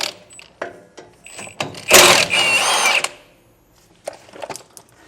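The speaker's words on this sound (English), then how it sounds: "We're just going to pop those off with a 9/16 socket." A 9/16 socket on a power tool spins off the bolts holding a trailer brake assembly during a Timken wheel bearing replacement: a loud close whirring, ratcheting burst of about a second amid lighter clicks and handling clatter.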